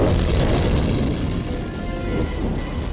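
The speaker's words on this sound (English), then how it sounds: "Rico quickly set his grenade to thermite. He hurled it with precision, and it exploded into bursts of searing flames" A thermite grenade blast as a sound effect: a loud, dense rumbling boom with crackling bursts of flame that fills all three seconds, heard alone.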